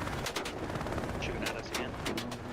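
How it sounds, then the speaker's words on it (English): Shooter video game gunfire, several sharp bursts of shots spread across a steady bed of game noise, quick and close. "Shooting at us again."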